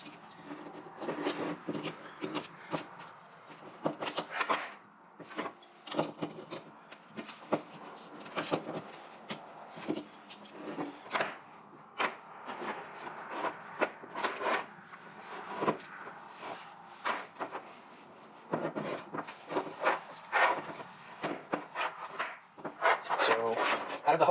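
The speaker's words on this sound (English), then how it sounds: "I'm going to take off these particular fittings." Fittings being worked off an aftermarket Cusco oil catch can for a 2019 Honda Accord Sport on a workbench, with close, repeated scraping, rubbing and tool clicks in an irregular rhythm and no talk.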